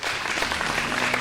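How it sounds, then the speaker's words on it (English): An audience applauding after a singing performance on a televised vocal competition, with steady, dense clapping filling the room at a constant loudness. "another big round of applause"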